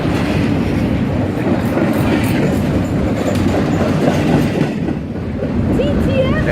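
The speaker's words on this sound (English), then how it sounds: "I think I'm near the train" A long freight stack train with double-stacked containers rolls past close by, a loud, continuous rumble with steady clickety-clack of wheels on rail joints; a voice may be faintly heard beneath it.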